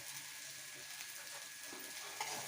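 Indori goli masala paste frying in a pan as asafoetida is added, a faint, steady soft sizzle over a short stretch with no talk.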